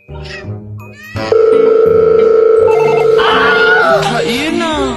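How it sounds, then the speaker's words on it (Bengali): A phone rings out on a call to a village customer, a loud, sustained electronic tone that shifts pitch partway through, with voices around it at the start and end. "আর একবার ফোন দি"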